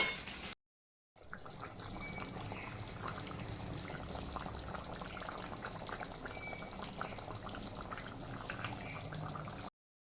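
Water poured into a cooking pot after boiled potatoes are lifted out, a steady, continuous splashing stream that runs for several seconds after a brief pause at the start.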